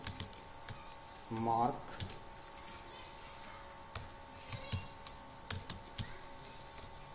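Quick clicking keystrokes on a computer keyboard while writing HTML code, a short dense burst followed by scattered taps, close and fairly soft, mixed with someone speaking Hindi.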